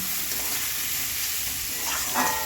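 Drained boiled potatoes frying with spices for a spicy-sweet aloo chaat, a continuous close sizzle with stirring and a brief louder scrape near the end, no talking.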